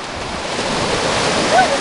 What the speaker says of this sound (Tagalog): Nandito naman sa dagat ngayon.